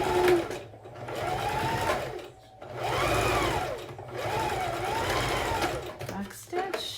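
A sewing machine stitches along the fabric binding of a face mask, running in several close, steady bursts separated by short pauses.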